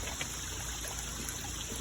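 Water trickles steadily from a pipe into a bog filter pond built with drilled PVC and graded rocks up to pea gravel, a soft, continuous close-up flow with no voices.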